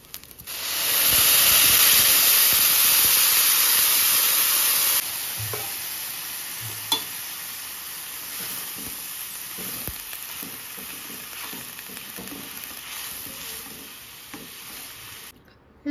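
Water poured into rice frying in a hot pot for pulao makes a loud burst of hissing sizzle and steam, which drops after a few seconds to a steadier, softer simmering crackle, close by.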